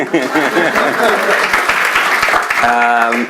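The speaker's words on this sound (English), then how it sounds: "You could clap your hands for her." Crowd applause and clapping fills the room, steady and fairly loud throughout, with voices mixed in and a brief musical tone near the end.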